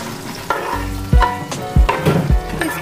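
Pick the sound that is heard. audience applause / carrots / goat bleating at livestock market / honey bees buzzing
carrots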